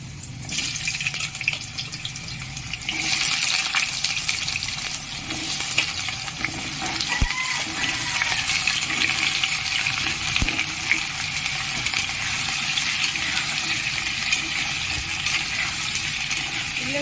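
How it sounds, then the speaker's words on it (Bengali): Cut potatoes frying in hot oil for Kashmiri aloo dum produce a dense, continuous hiss and crackle, steady and close, with a couple of sharp ticks partway through. "তেলটা গরম হয়ে গেছে কেটে রাখা আলুগুলো আমি ভেজে নেব"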